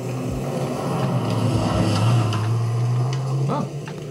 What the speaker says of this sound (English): there's like auto SUV pass on the gravel